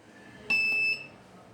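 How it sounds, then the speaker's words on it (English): A homemade overhead water tank alarm gives one short, high, steady electronic buzz lasting about half a second, triggered by water on its sensor, near and fairly quiet, against a faint room background. "the buzzer is making a noise, which means that there is water"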